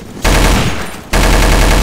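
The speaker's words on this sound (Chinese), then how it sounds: "这才有机枪的感觉啊" Sustained bursts of machine gun fire from the video game CS Online 2, loud and close, two long rattling volleys separated by a short gap.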